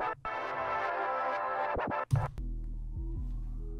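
Music loop in FL Studio run through the Gross Beat scratch preset, harmonic tones chopped by brief stuttering gaps before the loop drops into low, heavy sustained bass; loud and alone.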